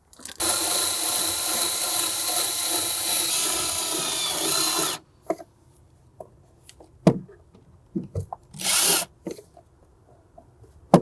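A power drill drives screws into new Seachoice cooler holders on a boat, with one long continuous whine for about five seconds, then a few short clicks and a brief second burst of the tool.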